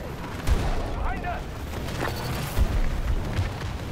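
Gunfire in Battlefield 2042 during a Conquest match, with muffled bursts and booming shots from a firefight near buildings, a couple of heavier thumps standing out over continuous battle noise.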